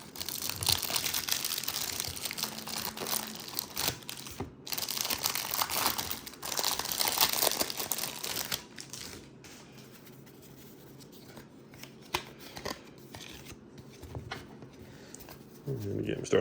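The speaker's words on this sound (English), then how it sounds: "I do hate opening these rack packs." Foil wrapper of a 1989 baseball card rack pack being crinkled and torn open up close, with bursts of loud rustling that quiet down later while a person talks.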